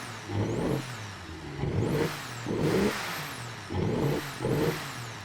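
A diesel truck engine in the Automation/BeamNG driving game rumbles at a low idle between five loud revving bursts, each rising and falling in pitch, with no voices.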